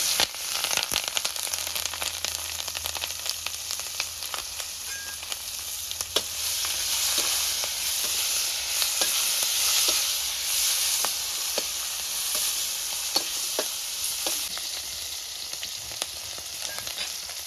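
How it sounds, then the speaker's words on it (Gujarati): Mustard seeds, cumin, asafoetida and chillies crackle and sizzle in hot oil in an outdoor village kitchen, a loud dense frying hiss with sharp popping spatters scattered throughout, no voices. "આપણે જો તેલ ગરમ થઈ ગયું છે, આ રાઈ જીરું નાખી દઈએ અને થોડીક હિંગ નાખી દઈએ અને હવે નાખી દઈએ આપણે આ મોળેલા મરચાં"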